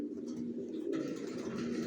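A pair of young racer pigeon chicks cooing and murmuring softly at close range in a loft, a continuous low burbling with no talk.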